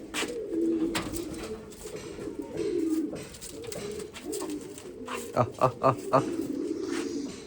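A large-crested Lotan pigeon in a cold-weather loft, a hen that has just laid an egg, coos in a low, continuous murmur, with a short burst of sharp knocks and clatter near the end.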